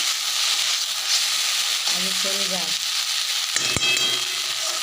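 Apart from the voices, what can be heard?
okra (bhindi) frying in a pan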